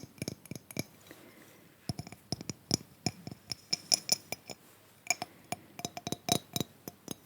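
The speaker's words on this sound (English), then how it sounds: "I can't tap too hard because I don't want to shatter it." Light taps on a star-shaped glass ornament, delicate, ringing clinks scattered in short clusters with brief pauses, close up and soft, with no voices.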